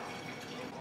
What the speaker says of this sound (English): I like to start by filling up the water.